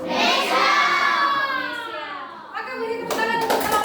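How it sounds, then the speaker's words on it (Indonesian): Classroom of students applauding a student group, a dense burst of clapping mixed with children's voices, fading then picking up again with a fresh round of claps near the end. "beri tepuk tangan untuk kelompok S"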